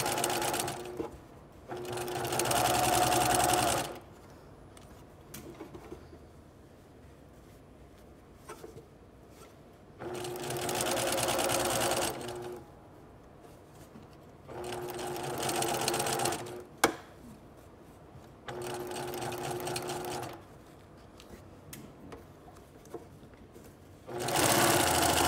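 A domestic sewing machine stitches a princess line bodice seam in four steady runs of several seconds each, separated by quiet pauses while the fabric is adjusted.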